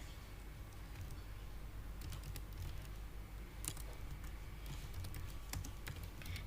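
Keyboard typing while entering a database table command, a steady run of faint, quick clicks with a few sharper key taps.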